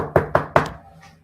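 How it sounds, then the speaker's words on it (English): Three sharp knocks on a door land in an even, quick rhythm, close and loud, each fading fast, with a quiet tail afterward and no voices. "who's knocking at the door?"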